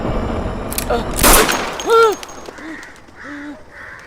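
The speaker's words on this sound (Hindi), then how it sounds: "ये पिस्टल तो खाली थी, गोली कैसे चल गई?" A pistol goes off in a movie scene as a burst of sharp gunshots, followed by crows cawing. Voices talk around the shots.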